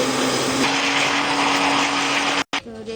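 A kitchen blender grinds milk, sugar and mango into juice, a steady loud whir with a constant hum that cuts off abruptly near the end, then a brief restart.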